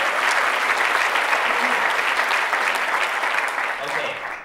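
An audience at a PechaKucha Night presentation event in Calgary gives a full, sustained round of applause, with dense clapping nearby that holds steady and then begins to fade toward the end.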